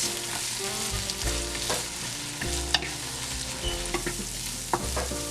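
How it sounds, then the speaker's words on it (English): Vegetables for a vegan puff pastry lentil loaf sautéing in a pan, a steady close sizzle with repeated scraping stirs of a utensil across the pan and a low hum underneath. "And then I will saute that until it is translucent."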